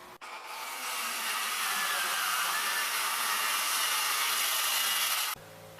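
A homemade DIY track saw cuts through a board, producing a loud, steady, close whine that holds for about five seconds before stopping abruptly.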